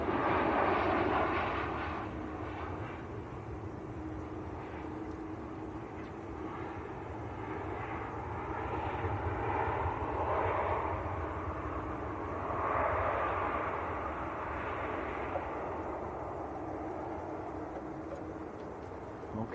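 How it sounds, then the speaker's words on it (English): A Boeing 787-8 Dreamliner lines up for departure at Manchester Airport, its jet engines giving a steady, distant rumble and roar that swells and eases slightly over about twenty seconds. "So this one's going out to Montego Bay, 787-8 Dreamliner."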